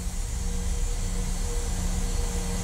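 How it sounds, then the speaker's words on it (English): Boeing 737-700 jet engines in Southwest livery, simulated in Microsoft Flight Simulator 2020 while taxiing, make a steady, unbroken roar with a faint high whine, holding even loudness throughout with no talk. "they have modeled these engine sounds just absolutely wonderfully."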